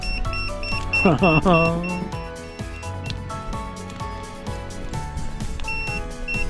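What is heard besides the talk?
smoke alarm beeping, set off by campfire smoke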